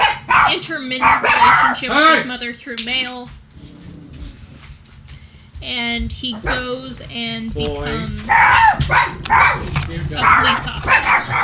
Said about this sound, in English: Sorry about the noise, everybody. Got a loud dog.